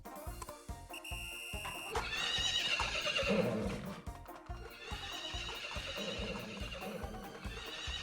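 Horses neigh and whinny over steady clip-clopping hooves and bright electronic game music during a four-horse video game race, with a loud burst of whinnying in the middle.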